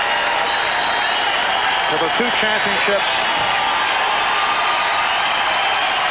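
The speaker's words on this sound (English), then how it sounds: "The applause continues." A crowd of 21,000 at the Palace of Auburn Hills gives a long standing ovation during a 1991 Bulls–Pistons playoff game, steady loud applause and cheering filling the arena under a commentator's voice.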